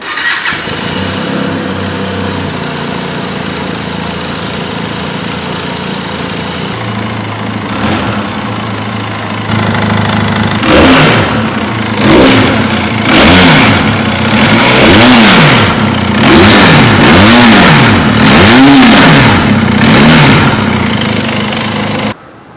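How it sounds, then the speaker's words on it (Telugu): A Benelli 502C 500cc parallel-twin motorcycle engine idles, then fires up louder and revs repeatedly in rising and falling bursts, close and loud, before cutting off abruptly. "so parallel twin engine 500cc ఎట్లా రోర్ చేస్తుందో విందాం"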